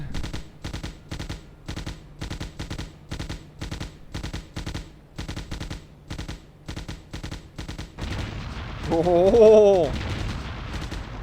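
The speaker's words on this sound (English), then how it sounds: "Fire the machine guns!" Bursts of machine-gun fire in the World War II shooter Hidden and Dangerous crackle in a steady rapid rhythm for several seconds, then stop as a brief voice and a louder, rumbling sound take over.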